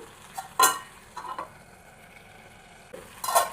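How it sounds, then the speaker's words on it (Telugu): Mint leaves frying in a pan for a tomato-mint chutney, with a few bursts of stirring and spatula scrapes over a quiet sizzle, separated by pauses. "ఇప్పుడు పుదీనా వేసుకుందాం రెండు నిమిషాలు మగ్గనిద్దాం"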